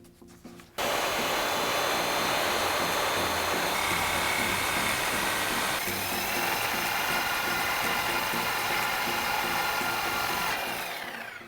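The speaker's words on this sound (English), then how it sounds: "we're going to make a cut right here on the straight section, right near the rear axle with a sawzall" A reciprocating saw cuts steadily through the straight section of a 2016-2018 Ford Focus RS factory exhaust pipe near the rear axle, a loud, continuous buzzing rasp that starts abruptly and runs for about ten seconds without talk.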